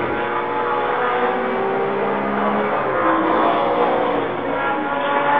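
1978 BMW M1 ProCar race cars passing during a historic Bonhams Cup race, heard as a steady, distant engine roar with a slight pitch shift partway through, no voices.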